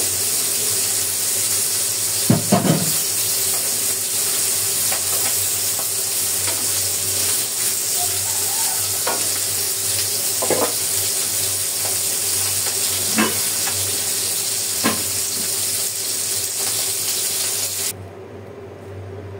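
Fish frying in hot oil in a pan beside taro being added, a steady close sizzle throughout with a few sharper pops and stirring clinks scattered across it.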